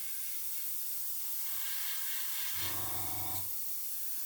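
A model airbrush sputters briefly while spraying paint, a rough burst of hissing and spitting lasting about a second over a steady faint background hiss.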